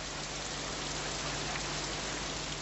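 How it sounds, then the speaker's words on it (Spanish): Heavy torrential rain pours steadily onto surfaces in a parking lot, a dense, constant hiss with no breaks, at moderate loudness and with no voices. "Debido a la lluvia torrencial, el aparcamiento estaba desatendido."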